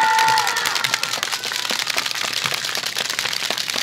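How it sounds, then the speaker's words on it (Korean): Outdoor crowd applause at a Wednesday street protest rally, steady dense clapping sustained for several seconds after a brief tone at the start. "우리 할머니한테 큰 박수 한번 다시 드리도록"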